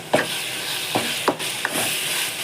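Ginger garlic paste and tomato sautéing in a pan for prawn gravy, a soft continuous sizzle broken by four or five distinct utensil scrapes and taps as it is stirred, no one speaking.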